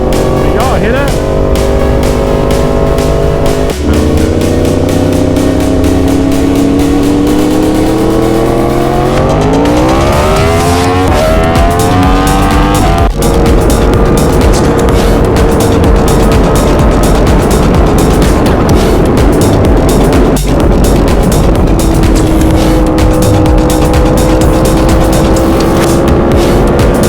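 A Yamaha R1 sport bike with an aftermarket eBay exhaust revs hard and loud, its engine note climbing and dropping through repeated throttle blips on the street.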